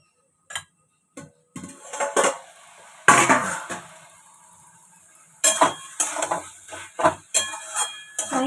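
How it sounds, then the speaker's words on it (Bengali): A cooking pot lid is lifted and the contents are stirred, giving scattered clinks, scrapes and clatters of metal on metal in uneven bursts with quiet gaps between. "এবার ঢাকাটা খুলে দেখব সবটা কেমন সিদ্ধ হয়েছে"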